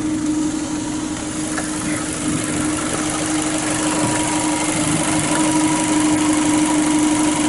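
A Fiat Panda 4x4 with an unrestricted 2-inch exhaust and no catalytic converter idles steadily close by, a constant droning engine note with a faint mechanical whine and no voices.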